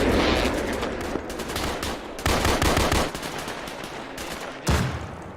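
Sustained bursts of automatic gunfire spray into a forest during a cold-weather military exercise, loud, dense and continuous, with sharp renewed volleys breaking in partway through and again near the end.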